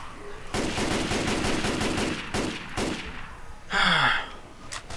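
M16 rifle fire in the zombie shooter Left 4 Dead 2: a loud close burst of rapid automatic shots for nearly two seconds, then a few separate single cracks and a metallic clatter.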